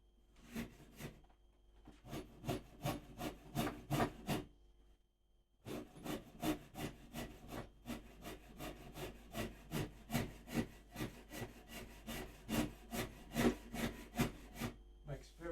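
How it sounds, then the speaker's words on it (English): A rasp shapes a wooden guitar neck in steady, rhythmic scraping strokes, heard close up. After a brief pause the rasping resumes with a quicker, denser series of strokes. "This rasp is awesome."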